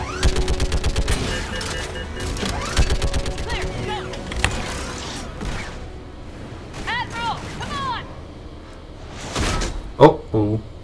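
Rapid gunfire from Mass Effect 3 starts as dense, loud bursts of automatic shots, then thins into scattered shots and sci-fi effects. A sharp blast comes near the end, and a voice talks over parts of it.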